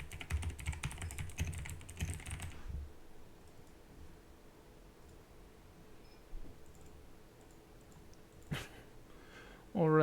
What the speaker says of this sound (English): Almost want to type.